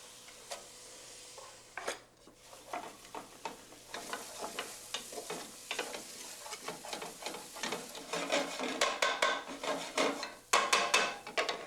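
Onions browning in a thin layer of leftover fat in a pan, with a steady sizzle broken by frequent stirring scrapes and clatters that grow busier and louder toward the end, close and without talk.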